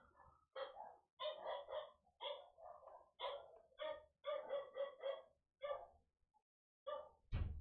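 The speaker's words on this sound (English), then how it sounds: "You see the dogs barking and stuff." Dogs barking outside in a video game, a rapid run of sharp repeated barks in short bursts, fairly close and loud, with a brief pause and a final loud thump.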